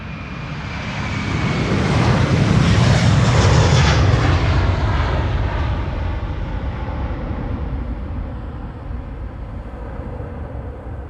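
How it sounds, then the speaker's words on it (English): A Delta Airlines jet on Flight 75 to Atlanta roars past at Amsterdam Schiphol Airport, its broad engine rumble swelling loudly, then slowly fading into a lingering distant whine. "Delta Airlines Flight 75 to Atlanta, Georgia."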